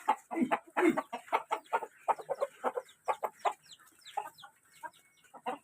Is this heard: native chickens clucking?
yes